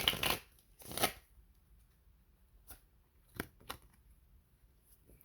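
A deck of angel cards is shuffled close by, with two riffling bursts followed by a few softer, scattered card flicks, quiet and without talk.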